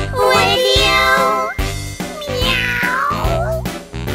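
A sung cat meow in a children's counting song, long melodic meowing notes over a bouncy backing beat, loud and in the foreground with a rising second meow phrase.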